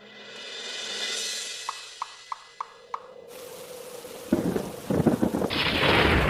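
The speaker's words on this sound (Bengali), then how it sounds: "এই তো ঝড় বৃষ্টি শুরু হয়ে গেল" A cartoon thunderstorm begins: several sharp plinking drops tap in a quick series, then a crack of thunder and a rush of rain take over, growing louder and denser toward the end.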